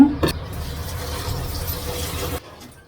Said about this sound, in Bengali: তো এখন আমি আনাজগুলো ধুয়ে নেব